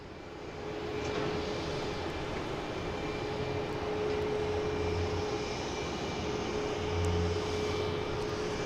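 Swiss Airbus A350-900 on its takeoff roll at Boston Logan, a steady broad engine roar at a distance with a faint whine, swelling gently and holding throughout.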